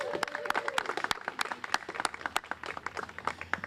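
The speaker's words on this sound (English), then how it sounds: "Give a round of applause." Scattered clapping from a small outdoor crowd at a playground ribbon cutting, individual claps distinct and irregular rather than a dense roar, continuing steadily throughout.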